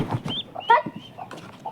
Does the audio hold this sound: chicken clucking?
yes